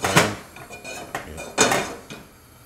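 A cooking pan is handled in a kitchen before heating oil, giving several sharp metallic clanks and clatters spaced irregularly, close and fairly loud, with no talk.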